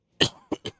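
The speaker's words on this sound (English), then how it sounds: "I think I'm starting to catch the filthy cough" Three short, sharp coughs from one person, close up, the first one strongest, with brief pauses between them and no other sound around.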